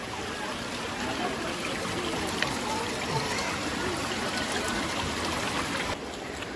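Cold spring water flows steadily from a source near a beach in Ubatuba, Brazil, a continuous broadband rush and trickle close by, with faint speech behind it.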